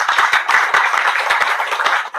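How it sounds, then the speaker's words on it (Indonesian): Audience applause at a PWI-LS gathering in Indonesia, sharp close handclaps in a quick irregular rhythm, loud and alone. "Tepuk tangan dulu."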